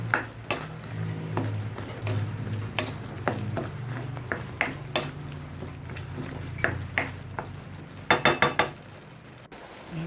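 Chopped eggplant stirred and simmered in a pan gives a steady close sizzle, with sharp scrapes and taps from a utensil at irregular intervals and a quick cluster of knocks near the end.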